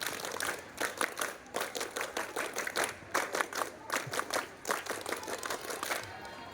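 Scout clap by campers at a scout super camp opening, performed in two rounds of sharp rhythmic group claps in a patterned beat, loud and close, with short pauses between phrases.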